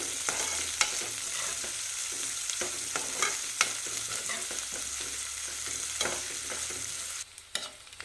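Green chillies and onions fry in oil with a constant crackling sizzle, punctuated by sharp scrapes and taps of a spoon stirring in the pan, near and steady until a brief drop at the end.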